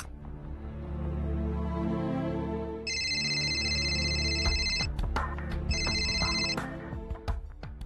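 A telephone rings in two electronic bursts, the first about two seconds long and the second shorter after a brief gap, heard over a continuous low musical background.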